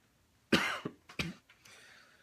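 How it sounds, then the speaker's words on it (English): A person coughing several times in close succession indoors, a few sharp harsh bursts followed by a fainter trailing breath, near and alone. "I don't know why I'm coughing either."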